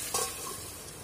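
Methi aloo, potatoes with fenugreek leaves, cook in a kadai over a low flame: a brief stirring scrape opens, followed by a soft, steady sizzle.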